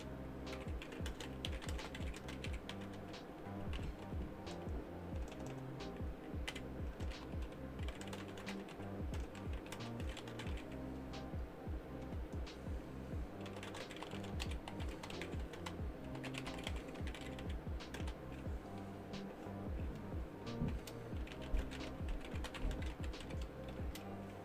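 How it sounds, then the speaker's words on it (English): Continuous quick clicking of computer keyboard keys, soft and fairly faint, keeps an uneven rhythm of bursts and short pauses throughout, with no one talking. "Let me type this real quick."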